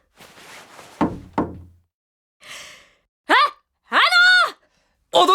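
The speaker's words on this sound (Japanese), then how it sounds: "ノックしますよ。" Knocking on the door of an office in a courtroom-game drama, a few sharp knocks around the one-second mark that follow a short stretch of talk, with voices speaking afterward.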